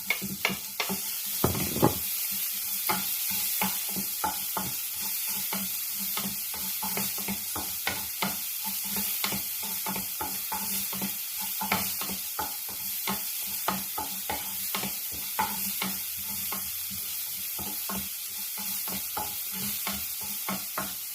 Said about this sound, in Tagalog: Haluin siya hanggat maluto yung sibuyas, bawang, at sibuyas.